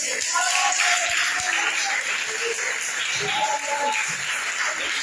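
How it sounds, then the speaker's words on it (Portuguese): A church congregation applauds during a sermon, producing a dense, continuous wash of clapping with faint murmurs and scattered voices underneath throughout. "Dá a salva de palmas para ele."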